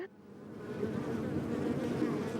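A swarm of bees buzzes steadily and close, a dense, continuous drone that rises after a brief quiet start and holds without talk.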